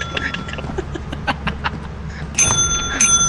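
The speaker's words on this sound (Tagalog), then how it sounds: "Spam niya yung bell." Bell rung over and over in the Lethal Company video game, a string of quick metallic dings at an irregular rhythm, ending in a couple of louder, sharper rings.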